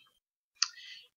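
A single soft mouse click on a computer, a sharp brief tick followed by a faint short rattle, heard close and alone in a quiet room.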